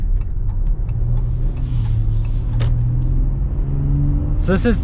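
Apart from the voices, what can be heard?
Ram truck engine accelerating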